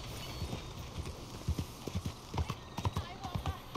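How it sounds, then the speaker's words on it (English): Horse hooves clip-clopping on city streets in Saint Denis in Red Dead Redemption 2, a rhythmic run of crisp, fairly quiet hoofbeats at walking pace against a soft ambient background. "That's a hell of a horse you got"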